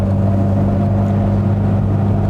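A loud Aston Martin DB4 classic sports car engine roars and accelerates hard, its deep, steady growl filling the whole moment.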